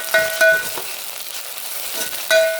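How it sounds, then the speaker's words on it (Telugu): Browned onions with a spoon of ginger-garlic paste sizzle steadily in a pan while a spoon stirs and scrapes through them, with scraping strokes at the start and end over a constant frying hiss, no talk. "ఆనియన్స్ ఇలా బ్రౌన్ కలర్ వచ్చాక అల్లం వెల్లుల్లి పేస్ట్ 1 స్పూన్ వేసి బాగా కలుపుకోవాలి."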